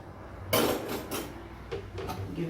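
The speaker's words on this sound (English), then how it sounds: "Give it another stir" A spoon stirs a Jamaican carrot and beetroot drink with nutmeg, giving several distinct clinks and scrapes against the container at an uneven rhythm, close and fairly loud over a quiet background.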